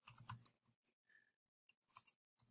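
Keys clatter on a computer keyboard as a git command is entered, quick bursts of close, crisp clicks broken by brief pauses.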